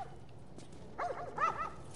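A dog in The Last of Us gives a couple of quick barks and yips, fairly faint and set back over a low hum of game ambience, clustered within about a second.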